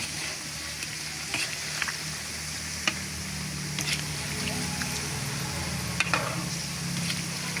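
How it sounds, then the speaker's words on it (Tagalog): Peeled large bananas are stirred in sugar caramelizing in a pan, making a steady sizzle with occasional sharp scrapes and taps from the utensil, close and continuous with no talking. "nagdikit na yung asukal mga kasuki. Halo-haloin pa rin natin para maano natin yung pantay na asukal."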